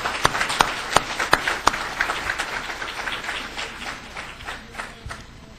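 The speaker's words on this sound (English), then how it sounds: "Let's give them a round of applause" An indoor audience at a semi-pro football Hall of Fame induction ceremony gives a round of applause, starting with a few sharp, distinct claps and swelling into steady clapping that gradually thins and fades.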